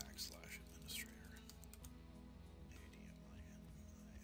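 Fingers type on a computer keyboard in quick bursts of close, crisp key clicks, with brief pauses between runs and faint low talk underneath.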